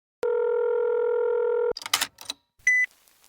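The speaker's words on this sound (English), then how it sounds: "Let's listen to an answer phone message from John, who's stuck at the airport due to some unexpected issues" A telephone answering machine sounds a long, steady electronic tone, then a few clicks and handling noises, then a short, high beep just before a voicemail message.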